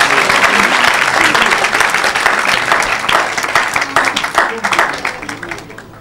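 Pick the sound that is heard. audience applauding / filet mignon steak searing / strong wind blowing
audience applauding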